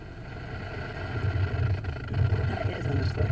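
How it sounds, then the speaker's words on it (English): A parked 2009 Honda Accord sits idling with its engine running, giving a steady low hum that thickens slightly partway through, heard from inside the car. "I'm just sitting here with the engine running."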